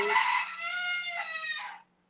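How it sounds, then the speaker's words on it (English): A rooster crows once, a clear drawn-out cock-a-doodle-doo that rings close and alone before cutting off abruptly into silence. "Every time I say something to validate, it makes a cock-a-doodle-doo sound."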